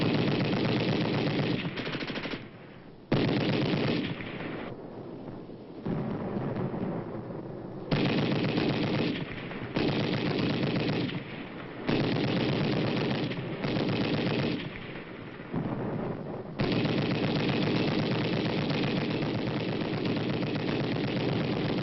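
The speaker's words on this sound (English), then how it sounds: "Allied troops open fire with machine guns on an enemy-held area" Machine gun fire from Allied troops aimed at an enemy-held house in a Korean War-era newsreel, sounding as loud sustained bursts in repeated stretches with short gaps between them, without talk.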